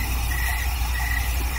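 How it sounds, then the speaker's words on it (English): Crickets chirp at night in a steady, continuous high trill that runs the whole time above a constant low rumble, with no one talking. "Wow, the crickets are rushing to their posts."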